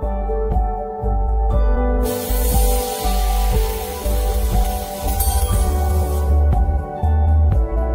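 A 5-in-1 double wobble fiber laser welding machine, fitted with a cutting nozzle, cuts metal with a loud, steady hissing spray lasting several seconds over background music.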